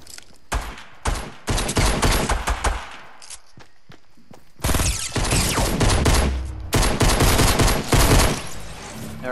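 Rapid bursts of automatic gunfire in the video game Fortnite, loud and close, coming in several dense volleys separated by short pauses.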